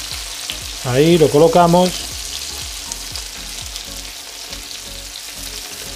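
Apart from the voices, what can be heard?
chicken being stirred while frying in a pan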